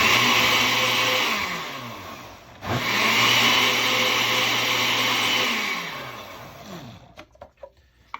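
An electric blender whirs loudly and close as it mixes paper pulp for leaf casting. It pauses briefly, restarts, then winds down near the end into a few light clatters.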